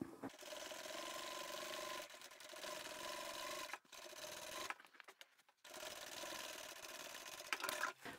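A sewing machine stitches along a seam of a large duffle bag, the foot's edge following an earlier seam; a steady close mechanical whir in long runs with a couple of short breaks.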